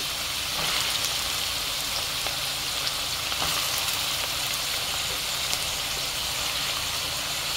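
Small chanda fish frying in hot oil, a dense, even sizzle with fine crackling pops, close and steady throughout, with no voices over it.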